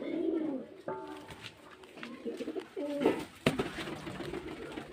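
Pigeons coo softly in low, rolling calls, several in succession, with scattered clicks and rustling in the background.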